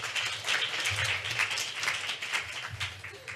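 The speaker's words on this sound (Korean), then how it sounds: "임효인 박사님을 큰 박수로 맞이해 주십시오" A conference audience at a Korean forestry outlook session gives warm applause to welcome a researcher to the stage, a steady, dense rush of many hands clapping at moderate volume throughout.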